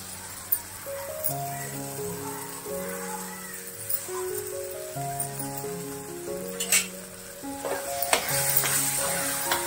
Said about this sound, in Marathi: आता पालकाची प्युरी, शिजवलेल्या पालकाची प्युरी घालते मी